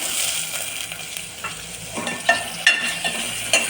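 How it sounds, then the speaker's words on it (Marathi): Chopped spinach and steamed beans sautéed in a pan for palak gargatta: a steady hiss of frying broken by repeated scraping and clinking stirs of a spatula, close and fairly loud, with no speech. "हे आता परतून घ्यायचं।"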